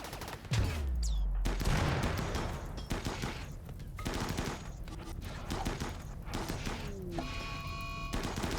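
Raiders firing on a turret in RimWorld: a dense, continuous barrage of gunfire and impacts with heavy thumps and crashes, loud and sustained throughout.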